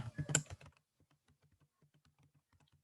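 Soft, faint keystrokes on a computer keyboard tap out an irregular rhythm after a short louder burst of keys at the start.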